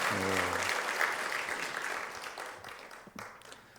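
A church congregation applauds to thank and encourage volunteer worship helpers, a dense wash of clapping that fades gradually over several seconds, with a low hum of voices near the start.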